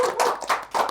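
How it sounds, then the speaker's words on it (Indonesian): Hands clapping in applause for a physiotherapy team, three quick loud bursts of claps over under a second with no talk. "Kasih aplaus dulu dong buat fisioterapi Gang Sehat"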